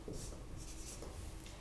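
Faint scratching of a pen or pencil on paper as a structural formula is written out by hand, soft strokes close by in a quiet room.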